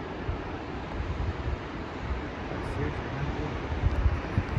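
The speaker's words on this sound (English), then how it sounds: "Oh, these waves are rolling this way." Ocean waves roll in at the meeting of the Indian and Southern Oceans near Cape Leeuwin, a low, steady surf wash mixed with wind buffeting the microphone.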